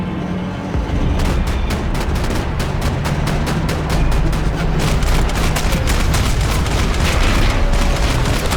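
Heavy sustained gunfire in Max Payne 3, dense overlapping bursts of shots and booming impacts forming a loud continuous barrage with no pauses.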